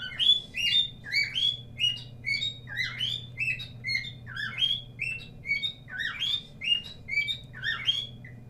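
Bird calls in a rapid, steady run of sharp chirps and tweets, near and fairly loud, with a constant low hum beneath.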